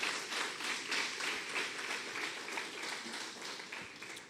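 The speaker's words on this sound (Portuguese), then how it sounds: "Você pode esvaziar as suas mãos e aplaudir Jesus?" A church congregation at a Lord's Supper service claps for Jesus, a dense, steady wash of many hands that stays moderately loud and even throughout, heard from a little distance with no talking.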